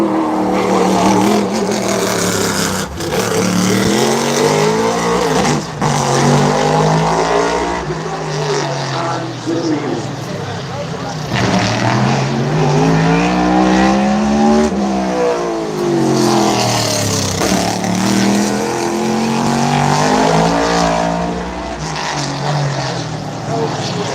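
Chevrolet stock car engine roaring on the track during opening-night hot laps at Bowman Gray Stadium, a loud continuous drone that rises and falls as the car accelerates past, with crowd and announcer noise faint underneath.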